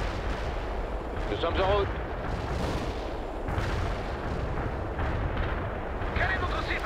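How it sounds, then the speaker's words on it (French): Artillery barrage in the World in Conflict strategy game, a steady rumbling roar of distant bombardment with heavy low-end thuds running throughout, while a radio voice speaks over it briefly. "On bombarde la zone cible"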